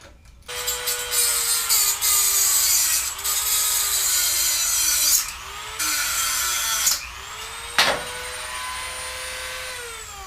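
A Dremel cutoff wheel grinds through a blown Honda Ruckus scooter motor in loud, high-pitched bursts, pitch dipping as the wheel bites and rising again between cuts, with a sharp snap near the end.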